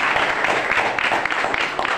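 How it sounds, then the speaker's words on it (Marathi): Students in a school classroom clap for their teacher, a steady, dense patter of many hands from a group that carries on without a break. "म्हणून मॅडमांसाठी पण खूप खूप टाळ्या वाजवल्या पाहिजे"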